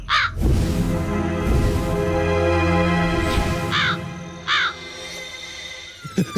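A crow caws several times close by in a Hindi comedy film scene, sharp separate calls over a low background hum.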